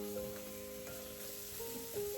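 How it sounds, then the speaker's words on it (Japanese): Powdered spices fry in a pot with a little added water while cooking a fish curry masala, giving a steady, soft, close sizzle with faint stirring through the short stretch, and no talk. "パウダースパイスも鍋肌に張り付きやすいので、少量の水を加えて炒めます。"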